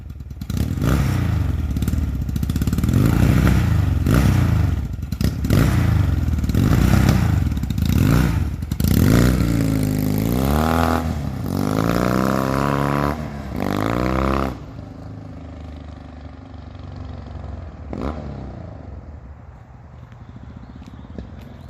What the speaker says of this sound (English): Steve, burn them tires up, buddy.